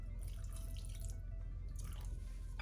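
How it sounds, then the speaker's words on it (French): Orange blossom water trickles quietly into a pastry dough mixture, soft close dribbling and drips at low volume with no speech. "maintenant je vais ajouter l'eau de fleur d'oranger dans mon mélange"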